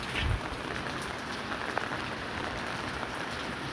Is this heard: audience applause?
no